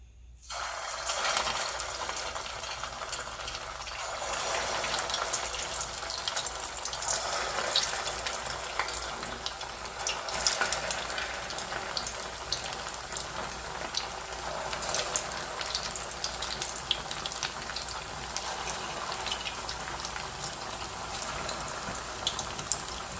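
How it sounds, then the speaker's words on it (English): Leftover rice and potato snacks frying in medium-hot oil, a steady dense crackling sizzle that holds evenly throughout, close and fairly loud with no talking. "Now the oil is hot. Keep it in medium hot, not very hot. Now we'll start to fry them."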